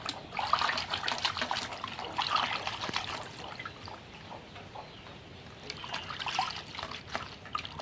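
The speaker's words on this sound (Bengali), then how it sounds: "এগুলো এবার জলে আমি ভালো করে ডুবিয়ে ঘষে ঘষে এগুলো তুলে নেব।" Chicken skin dipped and scrubbed in a bowl of water, steady splashing and trickling with bursts of sloshing, close and moderately loud.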